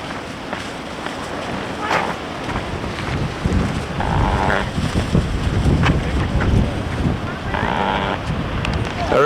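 Strong wind buffeting the microphone on a beach path, a loud continuous rumble and roar with gusts, and surf faintly beneath.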